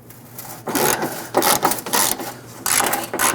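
A ratchet wrench turns rusty, penetrant-sprayed bolts on a 1997-2006 Jeep Wrangler front fender, giving close, loud, continuous clicking and grinding in bursts with short pauses.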